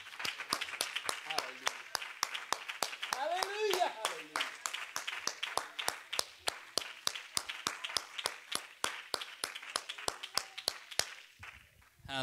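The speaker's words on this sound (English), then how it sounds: "Clap your hands and give God thanksgiving." Church congregation at a midweek Bible study clapping hands in a steady, even rhythm for several seconds, sharp regular claps with voices singing or calling out briefly in the middle.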